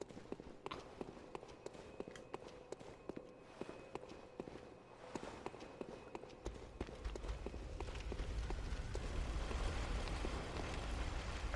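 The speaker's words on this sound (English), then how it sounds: "I still hear footsteps" Footsteps in Bloodborne, a steady run of soft rhythmic steps at moderate distance, growing denser and louder toward the end under a rising rumbling background.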